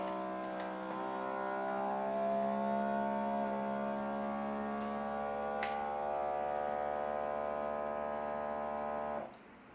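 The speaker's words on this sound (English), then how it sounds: "so you can see it sucking all of the air out of the bag." A Fun.U vacuum sealer pumps air out of a bag: a steady mechanical motor hum with layered tonal drone runs for several seconds, then cuts off abruptly near the end, like a small pump drawing air.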